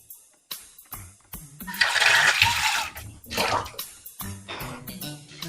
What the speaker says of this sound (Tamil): முதல்ல புளி கரைக்கலாம்.